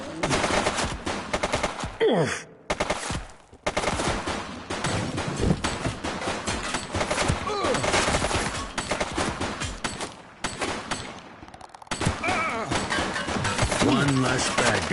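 Bursts of rapid gunfire crackle in The Precinct, a police game, with automatic volleys and single shots broken by short gaps, loud and close, mixed with game effects and occasional voices.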